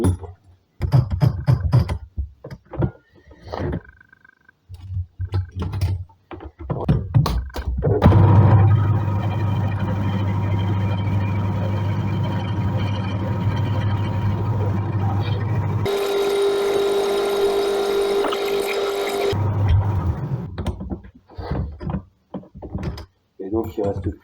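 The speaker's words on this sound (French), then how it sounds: "On va donc maintenant percer à 5 pour faire un M6" A drill boring a 5 mm hole for an M6 thread runs as a steady mechanical whine for about eleven seconds, then its pitch shifts for a few seconds, with clanks and handling knocks before and after.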